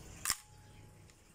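Mechanical shutter of a Nikon FE film camera firing once at its 1/90 setting, a single short, crisp click alone and close, followed by a faint secondary tick.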